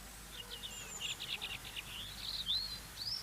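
European robin singing at Cranbourne, thin high warbling phrases and short chirps, fairly faint against a quiet outdoor background, with no voices.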